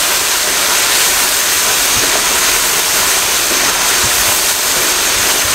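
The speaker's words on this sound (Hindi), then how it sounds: "इसको 2 मिनट के लिए मिक्स करके अच्छे तरीके से मिसालों के साथ भून लें" Beef stew meat frying with spices in a pan, a steady loud sizzle and hiss held evenly throughout with no talking.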